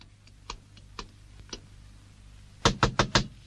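Knocking on a door in a 1988 Turkish film: a few light, spaced taps, then a quick burst of four loud, sharp knocks close by.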